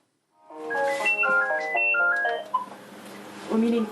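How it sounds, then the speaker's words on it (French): A telephone sounds a bright, melodic ringtone, a quick run of stepped electronic notes repeating up close, from a French regional television news report. "Depuis plusieurs semaines, le téléphone de Véronique n'arrête pas de sonner."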